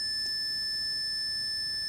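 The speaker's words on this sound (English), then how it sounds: "test it with a multimeter. Now this will go beep" A multimeter gives a steady, continuous high-pitched beep during a continuity test on a Sega Master System console, holding level throughout with no talk over it.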